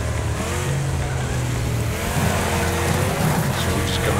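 A racing car engine in the demolition-derby game Wreckfest is held flat out at full throttle, making a loud, continuous roar with a deep drone underneath that never lets up for the whole stretch.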